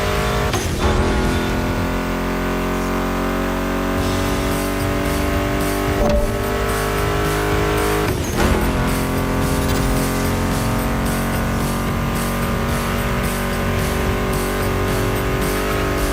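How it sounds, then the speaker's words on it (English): Car engines from the racing video game The Crew Motorfest hum steadily under a loud music mix, with a few sharp transient swells rising from the bed of sound. "Meshes well with the sound of the engines, you feel me?"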